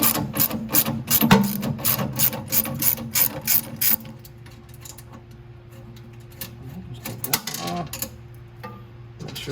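Ratchet wrench backing a nut off a vacuum motor, with quick clicking strokes close by for a few seconds, then quieter scattered ticks and handling over a low steady hum.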